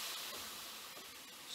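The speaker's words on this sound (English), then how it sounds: "Simply apply the iron and let it sizzle." Hot clothes iron pressed onto a wet washcloth draped over a dented wooden gun stock, giving a steady close hiss of steam sizzling throughout with no talk.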